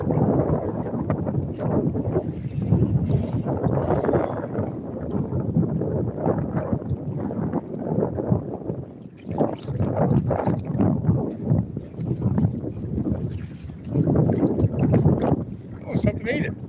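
Breezy, rough weather buffets a small fishing boat, giving a steady, loud rushing wind roar with gusts that swell and ease, mixed with water slapping against the hull and occasional voices.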